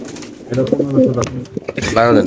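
Pigeons cooing in cages at a Bangladeshi pigeon sale, racer breed, several birds giving repeated throaty coos close by, with people talking over and around them.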